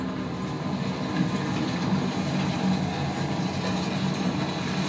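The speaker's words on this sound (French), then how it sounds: "Le métro." A metro train rumbles steadily through an underground tunnel, a continuous loud roar with faint rhythmic clatter.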